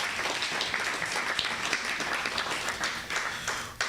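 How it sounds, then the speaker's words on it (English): An audience at a book launch claps steadily, a dense, moderately loud patter of many hands lasting throughout. "I think we deserve an applaud for that."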